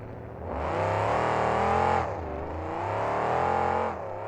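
A Snowcat monster truck with a big Hemi engine roars loudly through a sustained rev, dips briefly, then climbs into a second long, powerful surge during a sky wheelie in an arena.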